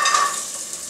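Chopped carrots, celery and onion hit hot olive oil in a pan with a steady, close sizzle, bright and hissing, while a utensil stirs through them; no one speaks.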